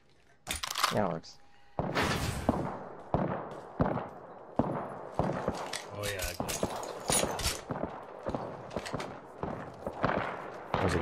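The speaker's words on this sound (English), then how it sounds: "A lot of gunfire happening over here." Gunfire in the battle royale game Apex Legends: repeated bursts and single shots crack at an irregular rhythm, some close and loud, others further off, with faint voices talking in between.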